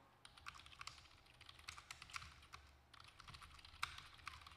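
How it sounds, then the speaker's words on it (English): Rapid typing on a computer keyboard, irregular clusters of light key clicks in quick bursts, faint and close, with no voices. "I'm typing now on our Discord side on the live update channel."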